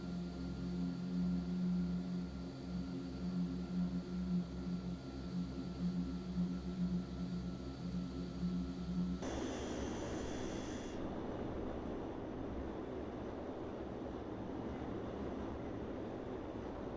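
Steady droning turboprop engine of a Fokker F27 in Microsoft Flight Simulator 2020, a continuous hum with tonal whine that shifts midway to a broader, rushing roar as power comes up, sustained and fairly loud.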